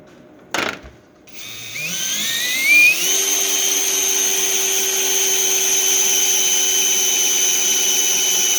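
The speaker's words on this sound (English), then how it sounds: "just before you break through, you slow down so you don't drop the teeth of the circular part of the drill" A power drill with a hole saw spins up with a steady high whine and grinding as it bores through a truck's body for an antenna, holding a continuous pitch after a brief start.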